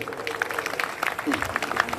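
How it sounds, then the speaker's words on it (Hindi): Applause from a crowd at a Jat community gathering, a steady patter of clapping at moderate volume, with a voice talking over it. "इन सब के लिए एक बार जोरदार तालियां हो जाए।"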